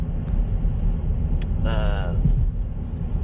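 Car driving home late at night, a steady low road rumble inside the cabin with a brief click and a short voiced sound over it.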